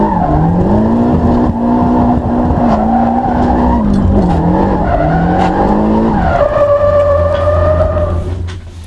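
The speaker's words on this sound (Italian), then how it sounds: "Ci ha fatto una specie di pendolo. Questo vedo che usa parecchio il freno a mano." A car drifts with heavy handbrake use, swinging side to side like a pendulum, with loud, sustained tire squeal and a revving engine that rises and falls for several seconds before tailing off.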